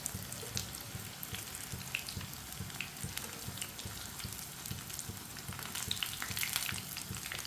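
Brinjal slices fry in a pan with a steady, moderate sizzle and scattered pops and crackles that continue throughout, with no voices.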